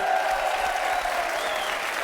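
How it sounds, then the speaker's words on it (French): Steady applause from a TV game show studio audience fills the whole stretch, dense and continuous without pause. "Alors qu'on peut applaudir nos hôtesses qui arrivent là"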